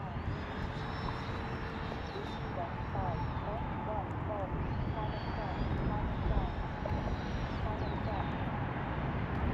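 A Freewing F-16 64mm electric ducted-fan RC jet on a four-cell pack makes a windy, rainy pass, its turbine whine rising and falling overhead under steady broadband wind rumble. Someone talks over it.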